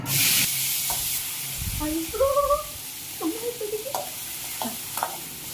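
Onions frying in a pan for chicken gravy: a loud burst of sizzle as they drop into hot oil, then a softer continuous hiss with scraping stirs and a few clinks of the spatula, close by.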